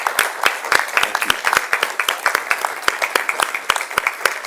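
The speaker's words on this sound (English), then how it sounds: "So a huge round of applause again for our Murray Symphony." A sparse audience claps unevenly after a Murray Symphony performance at a Murray City event, each clap distinct and fairly near, with scattered voices in the background.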